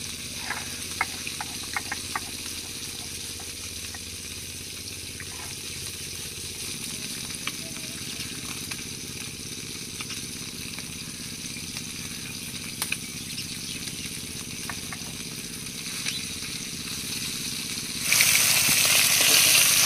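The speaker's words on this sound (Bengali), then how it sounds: "মাছগুলো সব ভাজা হয়ে গেছে, আবার তুলে নেব।" Steady sizzling of saiting fish frying in hot oil, with small pops and crackles throughout and a sudden louder hiss near the end.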